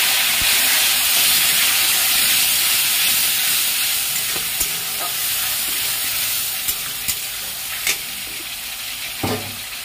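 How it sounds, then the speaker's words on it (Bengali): Spices fry in hot oil with a bright, constant sizzle and hiss, broken by occasional clicking stirs and scrapes against the pan, close and fairly loud with no talking. "এই তেলের মধ্যে আমি সব মশলাগুলো দিয়ে দেব।"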